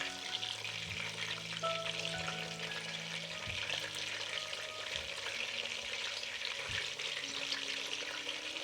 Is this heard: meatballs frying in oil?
yes